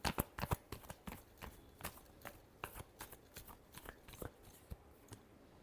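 Tarot cards being shuffled, with quick soft riffling and slapping bursts, a dense cluster at first and then sparser taps and flicks, close but faint and with no talking.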